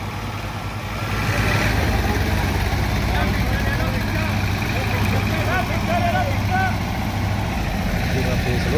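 A tractor engine idles steadily with a low, continuous rumble, close by and unbroken throughout.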